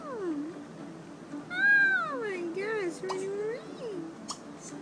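A cat in the Sims FreePlay video game meows in several drawn-out, rising and falling calls, moderately close, with light background sound.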